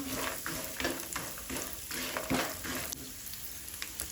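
Walnuts roasting in a pan for dink laddu, a continuous close sizzle overlaid with repeated scraping and stirring strokes at an uneven rhythm, with no talking.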